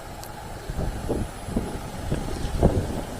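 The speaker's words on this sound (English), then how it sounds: "Wind's picking up just when I start speaking." Gusty wind buffeting the microphone at night in a cemetery, a continuous low rumble that swells and pulses in rough bursts, close and moderately loud with no talking.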